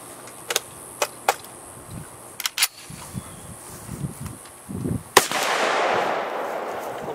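An M14 rifle fires a few sharp single shots at intervals, followed by a sustained hissing roar, all fairly distant and unaccompanied by talk.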